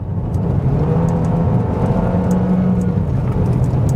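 A car driving at 80 km/h toward a police spike strip gives a loud, steady engine and road drone with a low hum throughout, and no voices.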